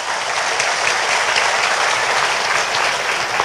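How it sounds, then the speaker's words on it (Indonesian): An audience at a religious preaching gathering applauds steadily: dense, even clapping that fills the whole stretch without pause, fairly close, with no talking over it. "Tepuk tangan untuk kita semua."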